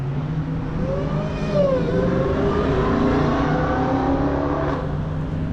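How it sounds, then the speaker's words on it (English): A wide-body Dodge Challenger Hellcat Redeye Jailbreak pulls away, its engine a loud, low rumble with rising and shifting tones as it accelerates off, heard alone and fairly close. "And there it goes. There you go, guys. The Hellcat Jailbreak REDEYE is gone."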